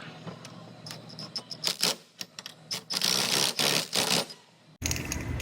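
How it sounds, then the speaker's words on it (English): A metal clamp being fitted onto a workpiece to hold tension, heard as a close series of sharp clicks, ratcheting taps and scraping rattles in uneven bursts, fairly loud and without talk. "So I'm gonna put this clamp on there real quick."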